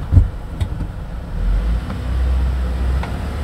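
A manual-transmission car pulls away from a standstill during a driving lesson, its low engine rumble rising steadily and heard from inside the cabin after a few soft thumps.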